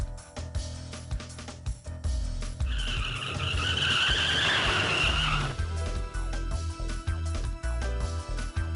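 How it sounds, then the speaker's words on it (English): A car skids and slides on a wet road in the Never7 visual novel game, a loud sustained tire squeal of a few seconds rising over engine rumble and ambient music. "car slides on the wet road. It still hasn't slowed down."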